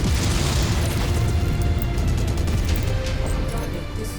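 Missile explosions in MechWarrior 5: Mercenaries, heard as a dense, heavy rumble of rolling booms and blasts that stays loud for the whole stretch, close and continuous.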